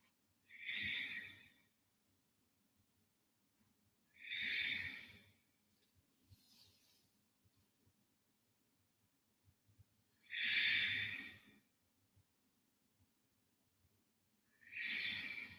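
Slow, deep breaths during a yoga twist, four long airy exhales spaced several seconds apart, close and soft in a quiet room.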